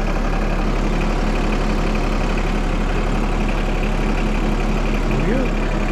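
A John Deere 2210 tractor engine runs steadily in four-wheel drive, a close, constant, loud drone with a strong low hum that does not vary and never pauses.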